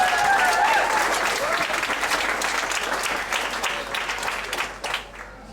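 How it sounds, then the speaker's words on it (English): A Pecha Kucha event audience in Ubud, Bali, gives dense, steady applause that holds throughout and eases off slightly toward the end. "Let's give applause to Nick Wood"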